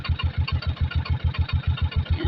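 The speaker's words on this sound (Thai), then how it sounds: "รถไถมาข้างหลังคือคูโบต้ามาข้างหลังนะคะ" A Kubota farm tractor engine runs through flooded surroundings, its rapid, even thumping pulses steady and fairly close.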